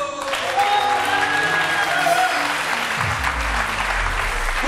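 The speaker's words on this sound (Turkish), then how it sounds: "Alkış." Studio audience on a Turkish daytime matchmaking TV show breaks into steady, loud applause, a dense wash of clapping that holds for the whole stretch with no voices on top.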